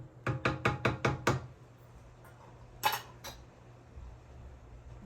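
A spoon clinks and knocks six times in quick, even succession against a pot of boiling Spanish rice as tomato chunks are stirred in, followed by a couple of sharper scraping clinks and a low simmering hiss.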